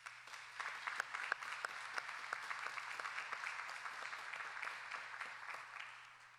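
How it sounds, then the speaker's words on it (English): An audience at a pharmacy white coat ceremony applauding, a dense steady patter of many hands heard slightly distant, fading near the end. "Let's once again give them all a round of applause."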